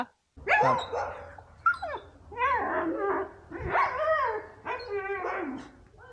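A pet dog calls out toward street dogs with a run of whining, yipping barks and yowls, about five bursts in a row, loud and close, each rising and falling in pitch.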